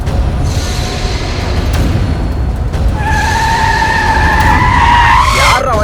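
A vehicle driven by drunk riders skids to a stop right in front. Loud, rushing road noise builds into a sharp, rising tire squeal that peaks near the end.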